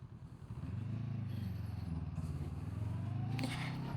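A Honda NX500 E-Clutch motorcycle engine idles, then rises into a steady revving hum as it pulls away, with a brief high-pitched clatter near the end.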